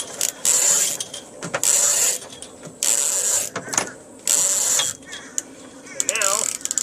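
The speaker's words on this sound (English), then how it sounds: "so that when you pull on the boom, it ratchets for you." A ratchet block on a 1977 Sunfish sailboat clicks in rapid bursts as the mainsheet is pulled through, close and crisp, with pauses between pulls and a person speaking.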